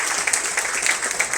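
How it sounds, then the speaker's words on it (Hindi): Applause from an audience at an Iftar meet in an auditorium in Andaman, a dense, steady wash of many hands clapping together throughout. "स्पेशली इन लोगों के लिए जोरदार तालियां"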